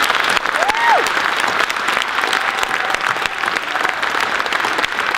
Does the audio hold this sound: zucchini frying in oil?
no